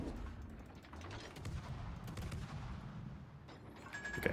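Ship guns on a Tier XI Pan-Asian destroyer, the Kunming, fire in World of Warships as rapid overlapping booms and cracks that come in a dense, continuous barrage at moderate loudness.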